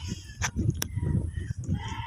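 Several goats bleat close by, overlapping calls rising and falling over a short stretch, with a couple of sharp clicks in between.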